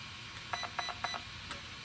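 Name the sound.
RC car ESC beeps, full throttle calibration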